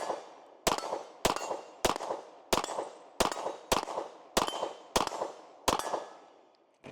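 Nine evenly spaced pistol shots from a Nighthawk Sandhawk Single Stack crack out one after another, each sharp report trailing off in a short echo, loud and close.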